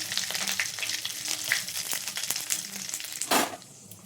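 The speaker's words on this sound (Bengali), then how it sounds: "হালকা করে ভাজছি। গোটা জিরে আর শুকনো লঙ্কা" Whole cumin seeds and dried chillies sizzle and crackle in hot oil, a steady close frying hiss with scattered pops and a brief louder burst near the end, no voices.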